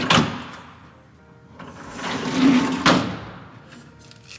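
A new Samsung fridge freezer drawer slides open and shut, giving a sliding rumble with sharp thuds at the start and near the end, close and fairly loud with no voices.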